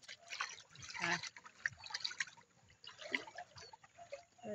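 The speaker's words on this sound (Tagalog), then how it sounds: "Ito yung kanal-kanal nila dito, pwede maligo." Water runs and trickles along a small farm canal in a rural setting, a steady close liquid flow with splashy bursts, partly mixed with faint voices.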